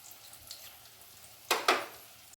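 Potatoes frying in hot oil, a soft steady sizzle with two sharp bursts of crackle near the end, close by and alone.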